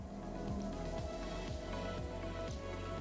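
Rain in the video game Cloudpunk, a steady hiss of rainfall on surfaces that fills the whole stretch evenly at moderate level, with a low repeating pulse of game music beneath it.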